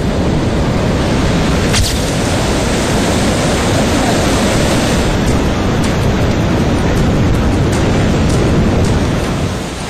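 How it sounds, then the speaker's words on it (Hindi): A flooded waterfall thunders down from about ninety feet, producing a loud, unbroken, full-bodied roar that stays constant throughout with no talk. "यहाँ पानी की गर्जना ऐसी कि कान सुन न हो जाए"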